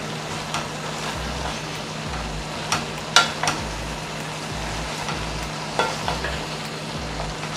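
Callaloo and saltfish cooking in a pot, a low simmering hiss under repeated scrapes and clinks of a spoon stirring, with a faint steady hum in the background.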